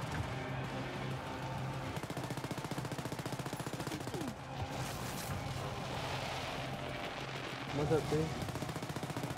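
Automatic gunfire in the video game Wolfenstein Youngblood, sustained rapid bursts with a steady rattling rhythm throughout, mixed with game noise and a brief voice speaking.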